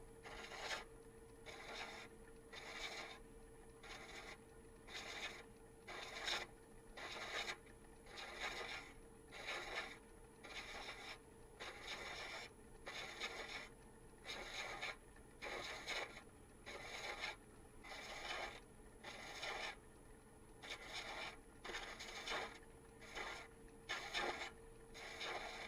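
A quiet, rhythmic rasping repeats steadily at about one stroke per second, like a tap being turned to cut threads, with faint metallic scraping throughout.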